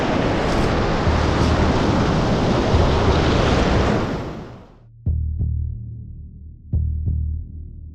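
Ocean waves surge and wash over rocks at Catherine Hill Bay in a loud, continuous roar for about four seconds. The roar fades to quiet, then two more sharp, close surges crash in.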